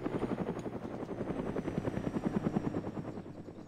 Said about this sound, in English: Is that another Huey?